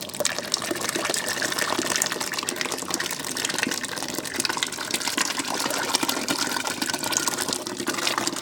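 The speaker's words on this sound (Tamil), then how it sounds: "இப்போ பருப்பு இதில் ஊற்றிடலாம்." Cooked dal pours into a pot of boiling sambar in a steady, unbroken liquid gush, close and moderately loud for several seconds with no voices.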